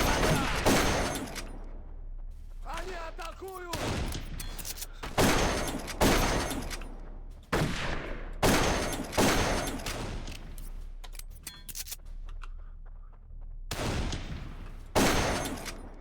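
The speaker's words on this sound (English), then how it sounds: "I'll get this futuristic shotgun" A futuristic shotgun fired repeatedly in the shooter Darkest of Days, loud blasts spaced every second or two with short gaps and faint background noise between them.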